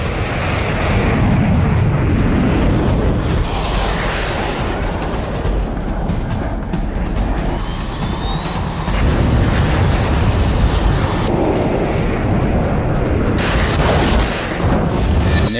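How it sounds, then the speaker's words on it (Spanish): A very loud, sustained explosion roars over constant wartime jet aircraft noise during the 1982 Falklands air war, with heavy rumbling, crackling and a rising whine partway through. "En ese momento escucho una explosión muy fuerte."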